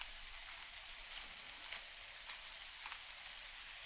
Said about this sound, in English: Add the pepper to the pan and let it cook for a few minutes until it softens nicely